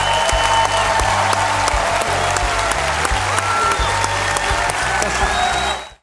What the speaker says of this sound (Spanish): Quiero que le den un fuerte aplauso al pastor Joel Osteen.